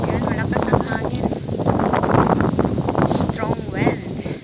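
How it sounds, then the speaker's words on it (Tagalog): Strong wind buffets the microphone in loud, rough gusts while a person talks over the roar. "Strong wind."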